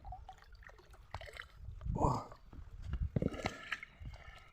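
Water poured into a bucket to mix fishing groundbait at a carp lake, a gurgling, splashing pour of about a second that rises in the middle of quieter outdoor handling noises.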